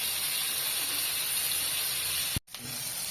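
Pangas fish frying in a pan in a village kitchen gives off a steady, even sizzling hiss that cuts out briefly near the end before resuming, with no voices.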